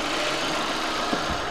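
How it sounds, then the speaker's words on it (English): A 2001 Nissan Almera's 4-cylinder engine idles with a steady, even hum and faint mechanical rattle, close by and unbroken, with no talking. "It's a very good engine."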